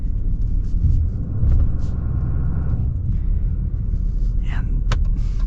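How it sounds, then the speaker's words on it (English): Low, steady idle rumble from a 2024 diesel pickup truck, close and continuous, with a faint higher whine and a couple of brief clicks or thumps near the end. "old school diesel rumble that, yeah, I just absolutely love."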